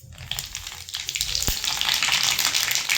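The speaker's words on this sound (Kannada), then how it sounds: "ಈಗ ಇದಕ್ಕೆ ಸಾಸಿವೆ ಜೀರಿಗೆ ಹಾಕ್ತಾಯಿದ್ದೀನಿ," Mustard seeds and cumin hit hot oil for a tempering in a North Karnataka kitchen, producing a loud, steady crackling sizzle with one sharp pop partway through that builds denser toward the end.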